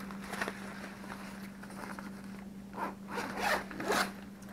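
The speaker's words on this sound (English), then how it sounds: "It's got the dual zippers here." A zipper on an 80-liter Coreal travel bag is drawn open in a series of short, scratchy pulls that grow louder toward the end, close by in a quiet room with a faint steady hum underneath.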